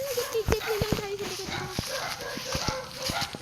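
Dog barking in short, sharp yips and barks scattered across a few seconds, close by, with a person talking over them.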